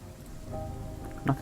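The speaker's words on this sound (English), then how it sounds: "Nice bit of rain." Steady rain falls in the Mars colony-building game Surviving Mars, a soft continuous hiss with a few faint drip-like ticks and no voices.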